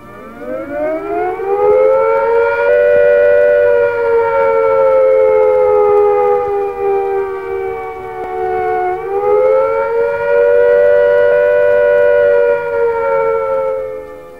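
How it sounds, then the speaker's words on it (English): A loud, steady air attack warning siren wails for the whole stretch, its pitch rising, holding, dipping briefly, then rising and holding again, with no other sound. "Here is a reminder of what the air attack warning sounds like. This is the sound."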